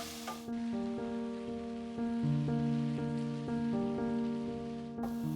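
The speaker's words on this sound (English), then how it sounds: "Saute for a couple of minutes as the aroma and savoriness builds." Cherry tomatoes, garlic and red chili sauté in a pan with a soft, steady sizzle, faint and partly masked by background music playing throughout.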